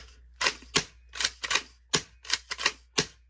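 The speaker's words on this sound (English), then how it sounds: "it sounds like an airsoft spring gun because it is basically a spring gun" Quick mechanical clacks and snaps in an uneven run as a shell-ejecting Remington 870-style gel blaster toy shotgun's spring pump action is racked repeatedly, close and fairly sharp with no talking.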